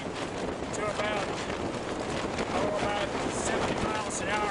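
Strong wind gusting on an exposed mountain at about 22,000 feet in the Andes, a constant loud roar buffeting the microphone with gusts swelling and easing throughout.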